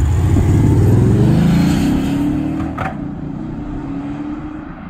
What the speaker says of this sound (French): Sympa quand même le bruit. Joli bruit pour un diesel.